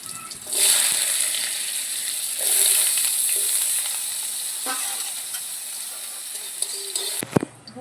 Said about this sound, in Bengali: এখন আমি কুমড়োগুলো দিয়ে দেবো তেলের উপর।